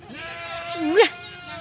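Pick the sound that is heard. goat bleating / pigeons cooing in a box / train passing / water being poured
goat bleating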